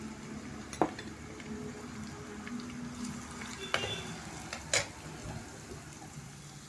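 Onion frying in oil for a Konkani-style okra dish gives a low, soft sizzle beneath several sharp clanks of a spoon against the pan, heard nearby with no talking.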